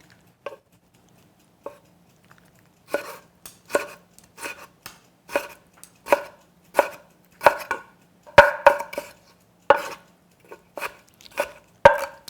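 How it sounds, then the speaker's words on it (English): A knife chops kimchi on a cutting board in a steady run of about fifteen crisp, close thuds, sparse at first, then quicker and more regular, with no talking. "Chop it up like this."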